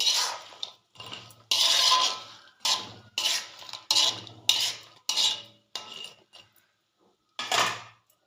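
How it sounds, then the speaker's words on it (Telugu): Chicken pieces go into a pan of fried ginger and garlic for chicken pickle, heard as a series of close, bright clattering and sizzling bursts with a spoon stirring and scraping, separated by brief pauses. "ఇప్పుడు చికెన్ పీసెస్ అయితే వేసుకోవాలి."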